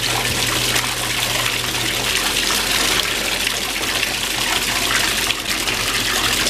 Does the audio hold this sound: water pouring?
yes